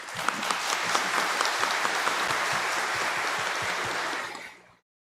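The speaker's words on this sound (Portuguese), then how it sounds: "Vamos acolhê-los com a salva de palmas" A church congregation applauds to welcome confirmation candidates, many hands clapping in a steady roomy roar with a few sharper claps standing out, fading away near the end.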